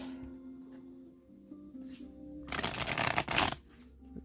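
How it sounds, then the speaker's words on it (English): Tarot cards being shuffled in a quick, loud riffling burst lasting about a second, close to the microphone, after a quiet stretch with a faint hum. "A good shuffle here."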